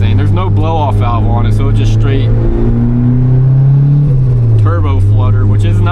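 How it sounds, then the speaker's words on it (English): A turbocharged Mazda Miata with no blow-off valve drones loudly at close range, its engine tone rising then dropping as the throttle lifts, with fluttery chatter around the shift; a voice talks over much of it. "There's no blow-off valve on it, so it's just straight turbo flutter"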